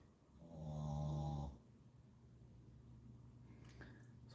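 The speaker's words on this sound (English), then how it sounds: "dog snoring." Dog snoring, one clear drawn-out rasping snore close by, followed by quieter breathing in a calm room.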